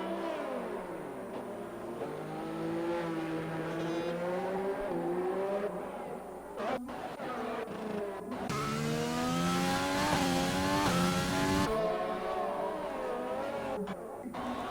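Race cars in an Xbox One racing game, at the Brazilian Grand Prix in a realistic-tier league: high engine whines rise and fall through gear changes, growing louder and rougher as a car roars close, then settling back.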